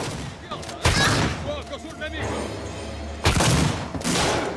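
Gunshots from the survival horror game Alien Isolation, two loud broadband blasts about two and a half seconds apart, heard under someone talking and game ambience.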